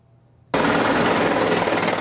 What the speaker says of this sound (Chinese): 直升机缓缓降落在以色列的儿童医院